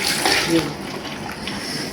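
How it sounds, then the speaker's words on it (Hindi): Soaked chana dal is tipped into a cooking pot together with its water, making a brief splashing gush followed by a steady watery pour, close and fairly loud. "अभी इसके अंदर डालूंगी और ये मैं पानी समेत ही डालूंगी"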